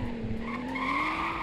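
A rear-wheel-drive 2021 BMW M3 drifting in the Roblox game Greenville, its tires giving a sustained rising skid squeal over engine drone, close and constant.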